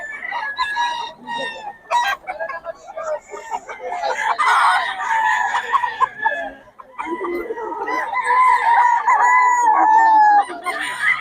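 A bull stag gamecock crows repeatedly at close range in a Bocaue yard, mixed with clucking fowl and other birds, while someone talks over much of it.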